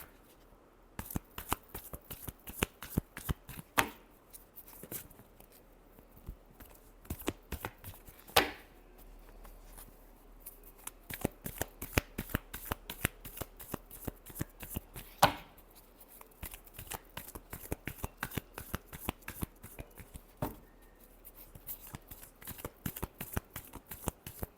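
Tarot cards shuffled by hand in a long run of quick, crisp riffling flicks and taps, close and fairly quiet, with no talk over them.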